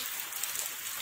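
Heavy rain pours down at a beach resort in Cebu, a dense, steady, close hiss of drops hitting surfaces with no voices.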